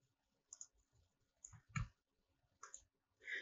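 A computer mouse clicking while an image file is chosen and opened, a handful of soft, separate clicks spaced irregularly over a quiet background.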